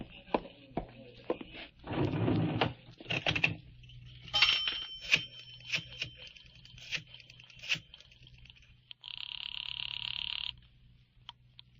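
An old telephone in a 1950s radio drama is dialed. Several short clicks and rattles of the dial sound close by, followed by a steady ringing tone toward the end.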